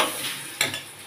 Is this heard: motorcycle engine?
no